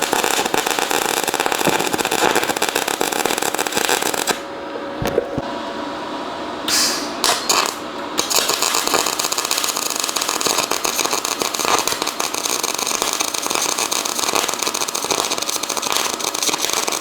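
A loud, deep engine rumbles steadily close by from a Chevy Silverado pickup with a new FlowMaster 40 Series exhaust, dipping briefly partway through before roaring back at full strength.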